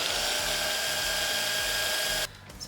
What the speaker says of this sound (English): take all the dry ingredients, as long as we already have a container dirty, and mix them all in the food processor